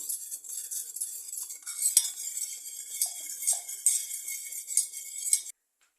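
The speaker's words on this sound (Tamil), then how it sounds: "அந்த பருப்பு லைட்டாக மிக்ஸ் பண்ணிக்கலாம்." A spoon stirring mung dal in a metal pot for payasam, brisk scraping and clinking of utensil against the pan in an uneven rhythm, close and clear, then stopping abruptly.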